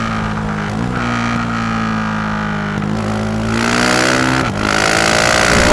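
A GasGas SM 700 single-cylinder supermoto engine revs up close and loud, its pitch climbing through gear changes in a steady accelerating drone.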